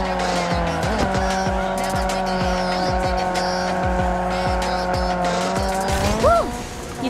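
Car drifting through a corner in the mobile racing game Need for Speed Unite, with a loud steady engine drone and rhythmic tire squeal running throughout, rising into a sharper squeal near the end.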